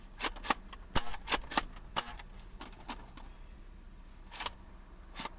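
A series of sharp plastic clacks and snaps, several in quick succession then spaced out, from a pump-action ball blaster being pumped and fired, close by.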